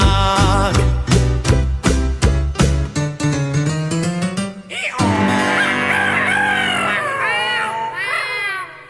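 A cartoon rooster crows amid a lively children's song, with loud rhythmic barnyard-style notes followed by a drawn-out, wavering crow-like call over sustained music.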